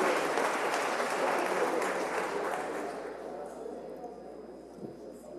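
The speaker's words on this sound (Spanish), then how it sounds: "un fuerte aplauso para todas las autoridades afro del gobierno." Audience applause at a government ceremony, a steady wash of clapping with voices mixed in, fading out over a few seconds.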